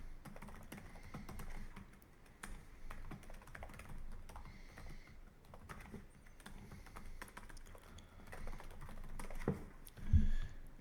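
Computer keyboard keys tapped steadily while code for a PyTorch training loop is written, a quiet continuous patter of keystrokes throughout with a slightly louder knock near the end.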